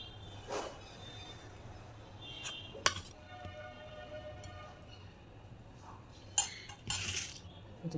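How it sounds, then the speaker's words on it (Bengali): Basan curry is served from a pot, with a few sharp, scattered metal clinks of utensils against the pot, some faint and some louder, over a quiet kitchen background. "আমি এবার তরকারিটা তুলে দিচ্ছি।"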